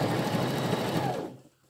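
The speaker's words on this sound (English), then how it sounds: "I'm going to begin sewing." A single short run of a sewing machine stitching a welt pocket for a coat or jacket, close and steady, then cutting off abruptly into quiet.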